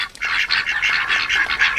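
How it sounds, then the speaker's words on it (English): Homestead ducks quack loudly and close, a rapid run of harsh repeated calls overlapping one another. "the dang ducks"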